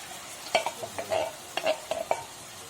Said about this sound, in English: So we've added our beans and we're just cooking off all the water.